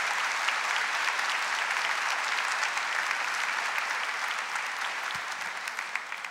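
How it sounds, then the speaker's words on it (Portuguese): A church congregation gives sustained, even applause, the many hands clapping continuously and fairly close for several seconds. "Você pode aplaudir a palavra de Deus"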